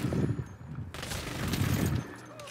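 Bursts of gunfire from the Saints Row video game rattle in rapid volleys, a loud fusillade that swells and breaks off, with a faint voice now and then beneath it.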